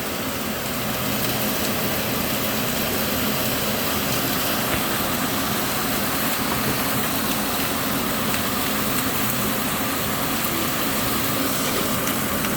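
A strong home cooking stove flame roars loudly and continuously, a dense, steady rushing noise with no pauses and no voices.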